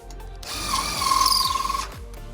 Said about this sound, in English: I'll grab my impact and I can drive them down through.